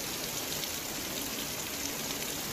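Heavy monsoon rain falls in Vadia, a dense, even hiss of downpour that stays constant and fairly faint, with no voices or other sounds standing out.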